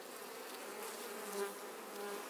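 A honey bee swarm taken from a trap hums in a steady, faint drone that swells slightly now and then, with no voices over it.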